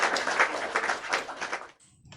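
Children in a primary school classroom clap together in a steady burst of applause for about a second and a half, fairly close, then it stops and the room goes quiet.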